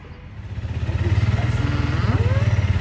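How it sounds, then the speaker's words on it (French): A motorcycle engine starts again during a desert crossing, its low pulsing idle rising and settling into a steady, throbbing rumble close by, with faint whining tones over it. "La moto redémarre, bonne nouvelle."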